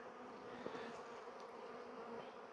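Dense, steady hum of many honeybees swarming over open brood frames in a packed hive during an apiary check, continuous and close with no talk.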